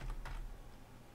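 Quiet keystrokes on a computer keyboard, a couple of soft clicks at the start followed by faint background hum, heard close up with no talking.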